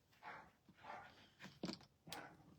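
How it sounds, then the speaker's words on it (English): Dogs playing nearby make faint huffs, grumbles and short yips in several quick bursts, soft and close-ish in a quiet room. "My dogs are playing, you guys."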